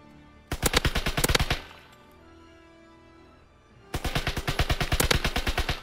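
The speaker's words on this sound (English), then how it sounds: "I'm with the grease gun" Grease gun submachine gun fire in Call of Duty WW2: two loud rapid bursts of about a dozen shots each, separated by a pause of a few seconds.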